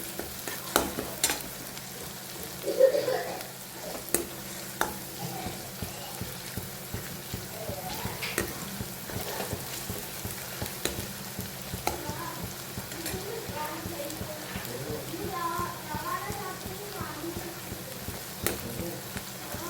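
Chopped onions frying in a pan for pav bhaji, a continuous crackling sizzle with frequent scraping stirs throughout, a faint voice briefly heard in the background.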